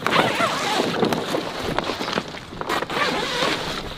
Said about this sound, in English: Oh, it's got zippers all the way around.